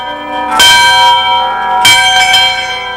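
Two loud electric church tower chimes strike about a second apart, each ringing out with a bright, sustained metallic tone that lingers and decays.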